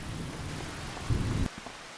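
Steady rainfall in a farming video game, a dense, even hiss of falling rain that swells briefly and then drops away abruptly near the end.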